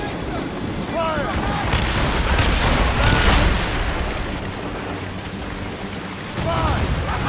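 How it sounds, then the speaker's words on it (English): A ship battle in Assassin's Creed Rogue fills with a rolling volley of musket and cannon fire, heavy booms and crackling shots, while voices shout commands over the din. "Enemies firing! Fire! Sweeping fire!"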